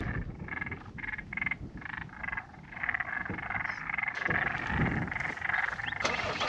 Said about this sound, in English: There's a lot of frogs.